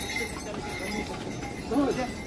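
Horses plod along the Kedarnath trek, giving soft, quiet hoof clops in a brief outdoor stretch, partly masked by nearby talking.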